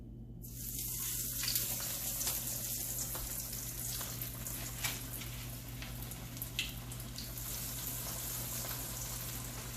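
Sweet potato veggie cutlets fry in hot oil, giving a steady, close sizzle with crackling pops scattered throughout and no voices.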